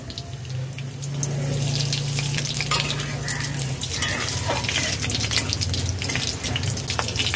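Nigella seeds and slit green chillies dropped into hot mustard oil in a kadai, sending up a continuous crackling sizzle that holds fairly loud throughout, with faint background voices.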